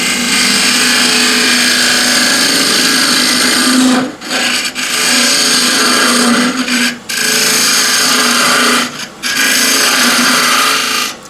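A 19mm square scraper hollows a walnut pot on a woodturning lathe, making a loud continuous rasping scrape broken by three short pauses as the tool lifts off the spinning wood.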